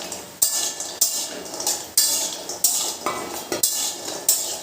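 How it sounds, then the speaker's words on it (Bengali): Lentil bori frying in hot mustard oil in a pan, with a steady sizzle under sharp spatula scrapes and clinks that repeat about once a second, close and fairly loud. "তেলটা গরম হয়ে গেছে, এবার বড়িগুলো দিয়ে আমি ভালো করে ভেজে নেব"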